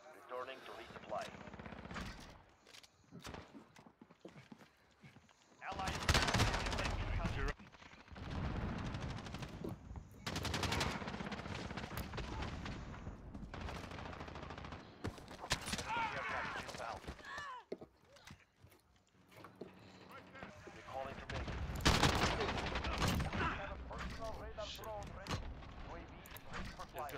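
MP5 gunfire in a video game, repeated loud bursts of rapid automatic fire spread across the span with short pauses between, some mixed with game effects and a player talking.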